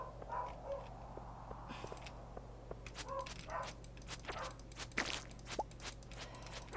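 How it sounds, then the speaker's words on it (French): A dog barks and yips in short, scattered bursts at a moderate distance in a room, mixed with light thumps and movement over a steady low hum. "Désolée si vous entendez mon chien qui aboie"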